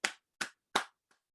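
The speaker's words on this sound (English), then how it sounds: "I'd like everyone to clap out loud." Three sharp claps in a steady rhythm followed by a faint fourth, like a single pair of hands or a small group clapping at a charity evening event, close and clear with no talking.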